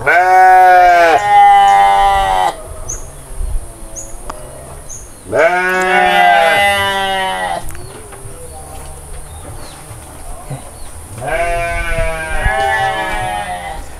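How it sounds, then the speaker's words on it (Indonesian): Sheep bleat loudly and nearby in green hillside farmland, three long wavering calls spaced several seconds apart, with a quieter outdoor background between them. "Tuh domba."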